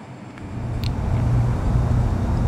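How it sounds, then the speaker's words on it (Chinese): Porsche 356 engine in a racing video game, a steady low drone that slowly swells louder with no one talking over it. "就这一台的保时捷356"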